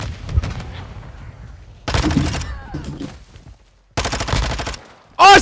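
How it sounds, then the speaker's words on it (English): Bursts of rapid automatic gunfire in Call of Duty come in two loud clusters separated by quieter stretches, ending with a sharp clipped blast. "Oh, I stopped shooting!"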